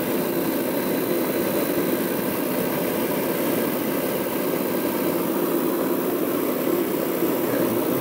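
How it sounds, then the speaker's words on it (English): A Mr. Heater portable propane heater rated 30,000 to 60,000 BTU running after ignition, a steady loud roaring hum with a low droning tone, continuous and close with no talk. "I'm gonna push this switch here, which ignites the gas"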